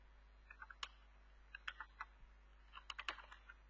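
Computer keyboard keys tapped in short irregular bursts, crisp close clicks separated by brief pauses over a low steady electrical hum.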